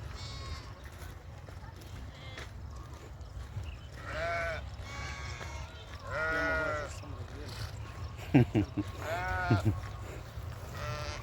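Sheep bleat at a livestock sale in Kafr El Sheikh, several loud, wavering calls from nearby animals repeating over steady crowd murmur, with someone talking throughout.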